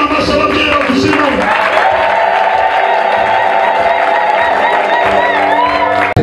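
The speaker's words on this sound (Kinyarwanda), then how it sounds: "Komera Imana amashyi ababyeyi bakuzima." A church congregation claps and cheers loudly and continuously during a lively deliverance service, dense crowd noise with voices and whoops throughout, music tones running under the applause.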